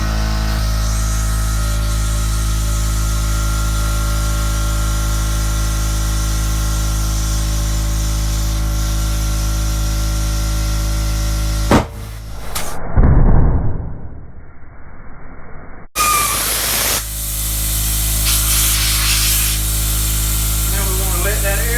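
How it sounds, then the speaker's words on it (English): Compressed air rushes through an open-ended chuck, with the valve core removed, into a tire to pop its bead during a wide-foot bead breaker job. A loud, steady hiss runs for several seconds, then a sudden burst of turbulent noise comes before the flow resumes. "So this way the air will go in it faster and maybe pop that bead out for us."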